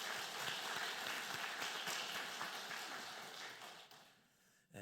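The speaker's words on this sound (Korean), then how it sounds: "또 축복하고 환영하는 박수 하도록 하겠습니다" A church congregation claps steadily in sustained applause during a Sunday worship service, fading slightly near the end, with no speech.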